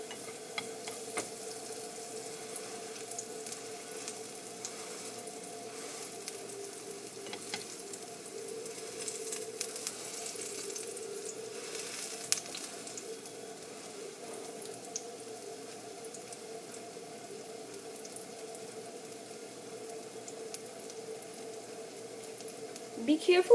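A banana pancake fries in a pan with a little oil, giving a steady soft sizzle with faint crackles, moderately quiet and continuous, and a clatter right at the end.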